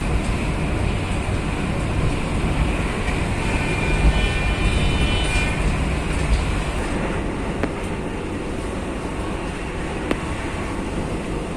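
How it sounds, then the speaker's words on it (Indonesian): A Blambangan Express passenger train pulls out of Ketapang station in Banyuwangi, giving a steady, loud rumble and broadband roar with faint rail clatter throughout, with no talk. "kereta api Belambangan Express diberangkatkan dari stasiun Ketapang"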